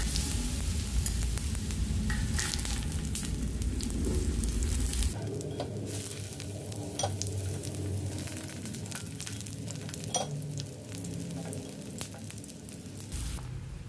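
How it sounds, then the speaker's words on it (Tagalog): Sliced eggplant frying in a hot pan, with a steady loud sizzle that briefly drops as the pieces are stirred or turned, then settles into a softer, continuous crackle with occasional pops. "Uminit na yung aking kawali. Kailangan ko nang ilagay ang talong."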